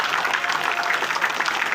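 A school award ceremony audience claps steadily for a student honoured for board exam results, a dense, even wash of applause from a crowd throughout.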